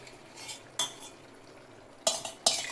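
A spoon stirs curd, gram flour and spices into softened tomatoes in a pan for paneer bhurji, giving a few sharp metallic scrapes and clinks against the pan.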